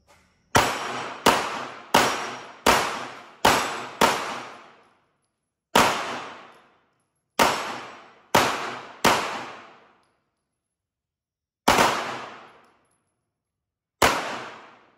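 Girsan MC 1911 9mm pistol fired at a shooting range during a duel-style competition, eleven sharp, loud gunshots: a rapid string of six, a pause, four more spaced shots, then two single shots after longer gaps, each with a short ringing decay.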